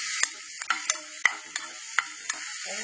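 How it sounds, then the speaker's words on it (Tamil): Onion and garlic sauté in a hot pan with cumin and urad dal, a soft sizzle broken by sharp clicks and taps of a stirring spoon at an uneven pace. "வெங்காயமும் பூண்டும் போட்டேன், நல்லா வதங்கிட்டேன்."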